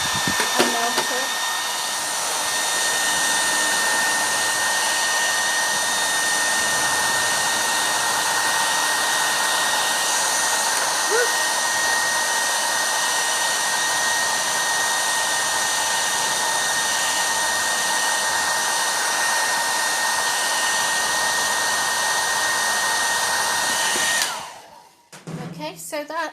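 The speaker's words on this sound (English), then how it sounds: "Now, this is a travel hairdryer which I use just for workshops." A travel hairdryer runs steadily on full power for well over twenty seconds, a loud, even whooshing whine with a faint high tone, aimed at chocolate to melt it, before clicking off near the end.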